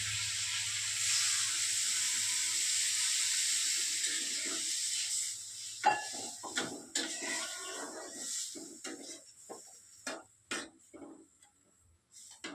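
Water poured into a pan of frying eggplant for a Bengali fish curry: a steady, soft hissing sizzle at first, which breaks into scattered clicks, taps and spurts as it settles.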